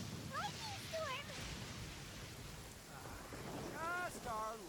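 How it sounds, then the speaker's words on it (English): Steady rain with a low thunder rumble during a lightning storm in Genshin Impact's Inazuma region, a continuous wash beneath bright, melodic, voice-like chirps from the game. "Uh-oh! Lightning storm!"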